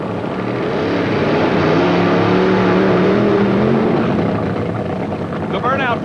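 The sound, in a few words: drag racing car doing a burnout, NHRA Brainerd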